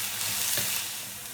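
Chopped garlic, six or seven cloves, hits a hot pan and sizzles loudly for a moment before settling into a steady, softer frying hiss, with no voices.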